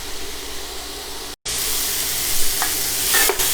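Cheesesteak meat fries in a hot pan with a loud, steady sizzle, broken by a short silence, then stirring and scraping over the continuous hiss.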